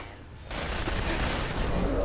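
Sustained gunfire from a Lieutenant Gutsy robot and other enemies inside a factory in Fallout 4's Far Harbor add-on, a dense continuous burst starting abruptly after a quiet half-second and staying loud to the end.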